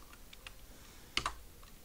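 A few quick keystrokes on a computer keyboard while editing a Google Sheets spreadsheet, with a brief cluster of two sharp clicks standing out over faint earlier taps in a quiet room.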